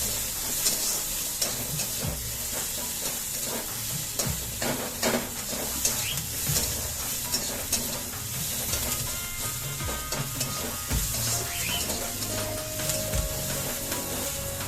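Onions sizzle steadily in hot oil while tempering dal, a continuous close frying hiss with occasional stirring scrapes and no talk.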